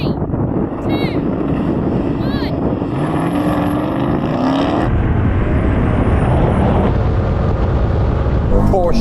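A Porsche and an Audi launch hard off the line in a drag race, a loud, wind-buffeted engine roar swelling over several seconds, with people talking over it.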